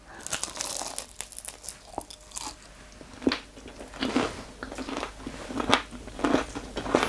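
Crisp, crackling bites and crunching chews into a fried spinach and potato pakora, close and repeated in an irregular rhythm, with no talking.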